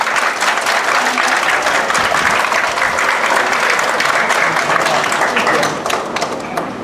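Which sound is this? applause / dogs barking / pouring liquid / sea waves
applause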